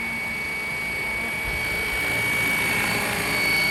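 Flywing RC helicopter hovering outdoors in wind, its steady rotor and motor whine holding a high tone above a low rumble of wind, getting a little louder toward the end.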